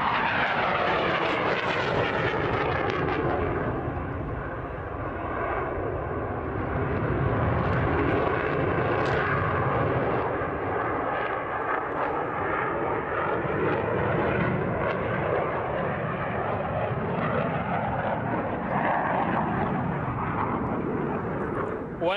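JF-17 Thunder fighter jet passing overhead, a loud, continuous engine roar that holds steady for over twenty seconds with its pitch slowly shifting, while someone talks under the noise.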